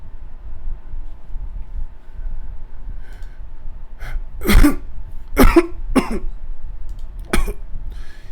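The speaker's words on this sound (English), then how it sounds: "he coughs for a moment" Several sharp coughs, two or three close together, followed by one more after a short pause, over a low background hum.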